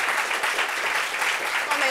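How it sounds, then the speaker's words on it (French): Brief burst of audience applause in a studio, dense clapping with voices faintly underneath. "Est-ce qu'on peut l'applaudir,"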